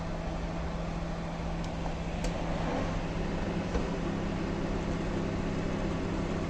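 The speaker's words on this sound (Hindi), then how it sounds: "तो ये देखें हमारा माइक्रोवेव ओवन बिल्कुल चल गया है" A repaired microwave oven runs with a steady low electrical hum and whirring drone, constant and close, with no talking.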